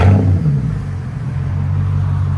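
A 2008 BMW 550i with a 4.8L V8 breathes through an X pipe and straight pipes, opening with a quick rev that settles into a deep, close, steady exhaust rumble.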